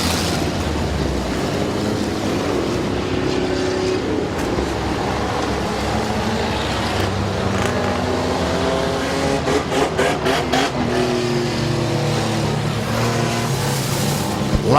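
Race cars at Midvale Speedway roaring off at the start of a 12-lap trailer race, a dense, continuous pack of engines droning and revving at close range, steady and loud throughout with rising pitch sweeps.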